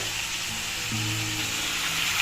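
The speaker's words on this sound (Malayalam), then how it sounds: "ചിക്കൻ ഒന്ന് ഫ്രൈ ആയിട്ട് വരട്ടെ" Chicken fries in a pan over a high flame, giving a steady bright sizzling hiss that carries on evenly, with a faint low tonal hum beneath and no talking.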